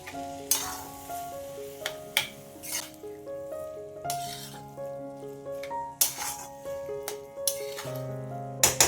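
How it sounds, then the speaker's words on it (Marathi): Spiced chopped tomato pieces sizzle and fry in a pan for a quick tomato chutney, stirred with repeated sharp scrapes and clinks of a spoon against the metal, steady close frying hiss underneath. "आता टॉमॅटोच्या प्रत्येक तुकड्याला मसाला छान लागला पाहिजे छान एकसारखं हलवून घ्यायचं"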